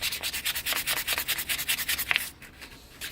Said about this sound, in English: I'm using 800 grit wet dry sandpaper, and I'm just scuffing up the surfaces